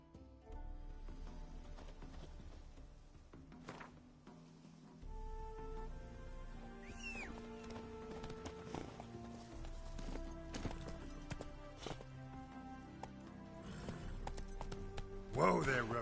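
The horse Roach galloping in The Witcher 3, with hoofbeats running under game music and spoken dialogue, followed by a brief whinny near the end.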